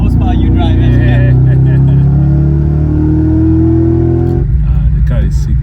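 A powerful 1,000-horsepower Naran hypercar engine roars loudly at a steady high rev, then drops off sharply near the end.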